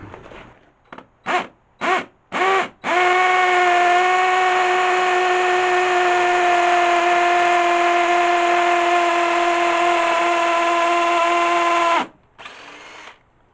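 A hammer drill drilling through stone starts with several short bursts, then runs loud and steady with a high whine for about nine seconds before stopping abruptly.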